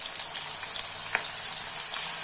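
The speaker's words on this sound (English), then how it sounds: "Now in this same oil, we will deep fry" Onions deep frying in hot oil for Arabic chicken mandi, a steady close bubbling sizzle with faint crackles running throughout, no talking.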